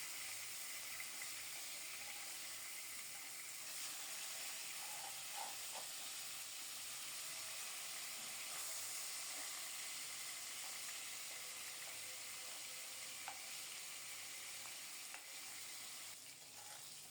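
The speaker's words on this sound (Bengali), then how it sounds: "মাছের সাথে আলুগুলিও ভাজা হয়ে যাক।" Pieces of rohu fish and potatoes frying in hot oil, a steady, even sizzle and hiss that carries on unbroken for a long stretch, quiet and close with no voices.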